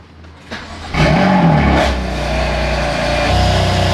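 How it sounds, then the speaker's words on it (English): A stock BMW M4 Competition fires up on a cold start: a starter whir, then a sharp loud flare of revs that settles into a steady, throaty idle, close and alone. "Let's go ahead and get a cold start"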